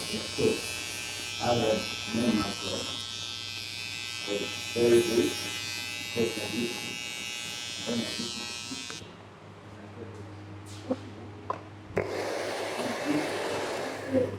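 Electric clippers buzz steadily while a beard is shaved off during a buzz cut. The buzz runs under intermittent talking, stops briefly, then starts again.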